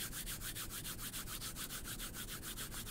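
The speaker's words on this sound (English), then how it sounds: "Listen to the sound of your hands rubbing together." Two palms rub briskly together in a steady, continuous back-and-forth swish, close and fairly quiet, with no voices.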